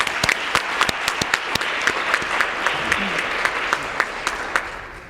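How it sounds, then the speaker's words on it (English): Audience applause at a city meeting on cultural institution funding in Brooklyn, a steady wash of many hands clapping with sharper individual claps standing out, sustained and fairly close throughout. "I just want to give you a round of applause."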